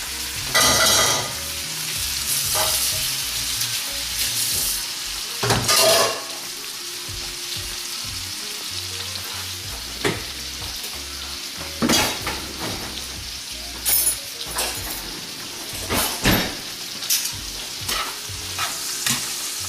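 Shrimp fry in butter in a pan with a continuous crackling sizzle, broken by loud stirring bursts and clinks of a utensil against the pan, close and with no talk.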